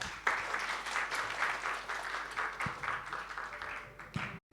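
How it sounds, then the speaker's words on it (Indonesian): A crowd claps and applauds steadily at a Christmas event, a dense wash of hand claps that swells and fades slightly before stopping abruptly. "Berikan tepuk tangan sekali lagi untuk"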